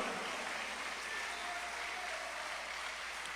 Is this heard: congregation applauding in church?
yes